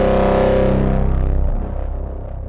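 Detonator Rage plugin sound with distortion, compression and reverb, a gritty, buzzing distorted tone that hits hard and then decays into a fading reverberant tail.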